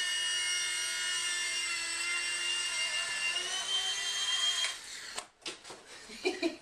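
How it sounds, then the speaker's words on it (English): A small RC helicopter's high-pitched rotor whines steadily with a buzzing harmonic tone, then cuts out and gives way to brief clattering noises. "that's a pretty good, pretty stable little helicopter"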